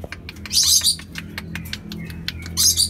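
A parent black-capped lory calls nearby with bright, sharp chirps and tweets in several loud bursts, separated by softer clicks and quieter calls against a low background rumble.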